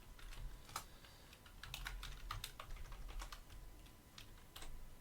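Someone types special characters on a computer keyboard in quick, irregular bursts of light clicks and taps, close and fairly quiet over a low steady hum.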